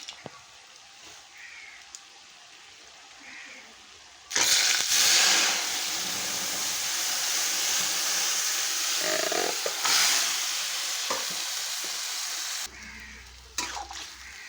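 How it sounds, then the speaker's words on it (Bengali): Pumpkin leaves tipped into hot oil with fried lentil dumplings and panch phoron, setting off a sudden loud rushing hiss that holds steady for several seconds before cutting off, close up, after a quiet stretch with faint kitchen clatter. "এখন দিয়ে দেবো শাকটা ঢেলে।"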